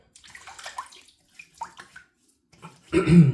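A shaving brush is wet under running water before a shave, a short loud splashing gush arriving near the end after a few quiet handling sounds.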